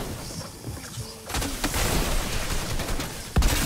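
Shotgun fire in the Fortnite video game, with a sharp nearby blast near the end after a stretch of dense, noisy in-game action and a burst of broadband activity.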